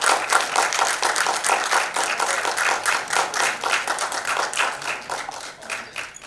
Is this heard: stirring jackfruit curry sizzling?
no